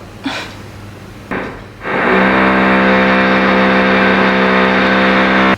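Loud, steady mechanical whine of renovation work next door early in the morning, a sustained droning tone with strong harmonics that starts after a couple of brief knocks and runs unbroken to the end.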